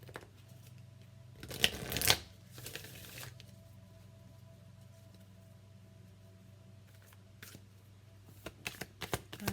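A Work Your Light oracle card deck by Rebecca Campbell is riffled and shuffled close by. A loud burst of shuffling comes early, then a quieter stretch, and a run of light card flicks follows near the end.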